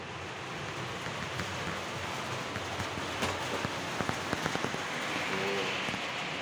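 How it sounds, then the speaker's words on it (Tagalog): Heavy rain pours steadily on a construction site with a tower crane amid strong wind, a dense, continuous hiss with a few sharper drip and splash hits toward the end. "napakalakas talaga ng ulan"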